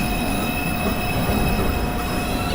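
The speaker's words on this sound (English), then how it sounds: "This is a 1 train going uptown toward Rector Street." An uptown New York subway 1 train pulls into a station, its wheels squealing in a steady, loud, high metallic whine over a dense rumble that fills the whole stretch.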